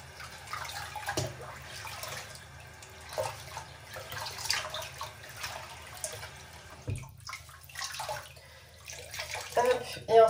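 A synthetic wig being rinsed in water in a bathtub, steady splashing and running water nearby with intermittent sloshing and drips, while a person speaks over it.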